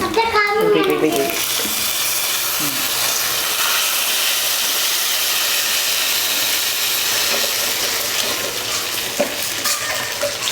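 Mustard seeds, dried red chillies, curry leaves and fennel seeds sizzle and crackle in hot oil for a village-style tiffin sambar, a steady close hiss with brief spattering pops and a stir near the start.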